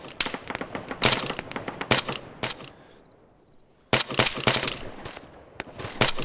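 Bursts of automatic machine gun fire in the Arma military shooter, rapid loud volleys in two clusters separated by a quieter gap of about a second.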